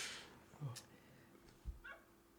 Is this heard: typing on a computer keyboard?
no